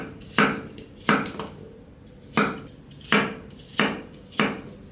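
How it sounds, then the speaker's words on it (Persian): Firm red apples chopped with a knife on a board for homemade apple cider vinegar, six sharp, evenly spaced chops ringing out close and clear with no speech. "همه رو همینطوری ریز میکنیم تا تموم شه."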